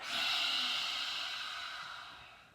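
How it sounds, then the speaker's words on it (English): A single vigorous, breathy exhale pushed out through an open mouth with the tongue out during a yoga breathing exercise, a loud hissing rush that slowly fades over a couple of seconds, with no talk over it. "as you exhale through the mouth, tongue out and eyes up. Very vigorously."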